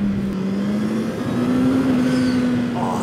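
Custom-built turbocharged Honda CBR900 motorcycle engine revving hard, a loud, steady high-pitched drone that holds across the whole stretch with a slight climb.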